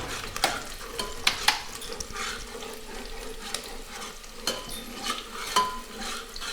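Onions fry in a pan while a utensil stirs and scrapes now and then, with faint sizzling under scattered clinks, fairly close and steady, at a home wedding preparation where mutton is being cooked.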